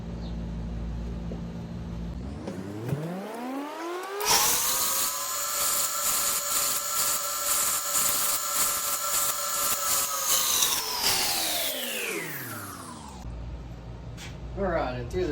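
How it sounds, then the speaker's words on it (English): Power sander squaring up a wooden bow and removing bandsaw marks, a loud sustained whine that ramps up in pitch, holds steady for about eight seconds, then winds down, with grinding texture throughout. "we're going to use the sander and we're going to square it up, take all the marks from the bandsaw out"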